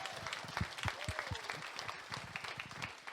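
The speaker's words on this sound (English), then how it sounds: "a big round of applause for Tommy Moran" Festival audience applauding Tommy Moran at the Leitrim Boxty Festival, a lively round of clapping with cheers and some chatter mixed in, fairly close and steady throughout.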